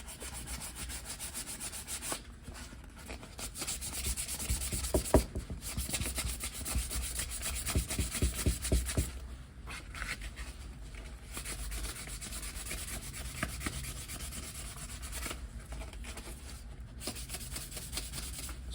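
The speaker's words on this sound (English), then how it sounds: "Right, let's sand this." Hand sanding of white primer on an old engine with fine 320-grit paper: steady, close rubbing strokes in a continuous rasping rhythm, with short pauses between passes.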